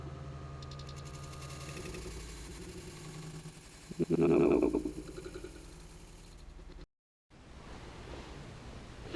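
A VW Super Beetle fitted with a Subaru engine runs at a steady exhaust drone, swelling briefly into a louder burst, then cutting out before the hum returns.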